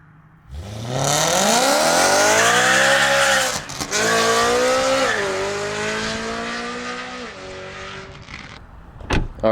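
A BMW E92 M3 engine revs hard and loud close by, then the pitch drops in stepped downshifts before it settles and trails off, with a sharp burst at the very end.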